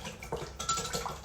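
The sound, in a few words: whisking dressing with Aleppo pepper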